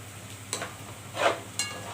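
Onions frying lightly in a pan for shawarma, a low steady sizzle broken by three short spoon scrapes as they are stirred.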